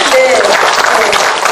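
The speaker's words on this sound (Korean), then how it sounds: "이쯤 되면 박수가 나와야 돼요." Audience applause at a Korean lecture on North Korean, Chinese and Russian culture and literature: steady dense clapping filling the short moment, with a tonal voice-like trace mixed in near the start.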